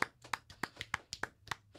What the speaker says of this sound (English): So round of applause once again for Musin Yasalada.